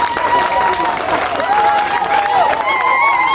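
Applause for Honorable Asha Lumolo Mafadi at a dormitory handover ceremony for Elgon Junior Christian School, Mutufu Town Council: a steady wash of crowd clapping with scattered voices and cheering mixed in throughout.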